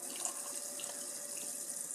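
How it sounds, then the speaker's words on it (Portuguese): Water poured through a small funnel and hose to fill the cooling system of a Stirling-engine motorcycle, a steady close trickle and splash running without break and with no talking. "eu consigo usar um pequeno funil com uma mangueira para encher o sistema com água"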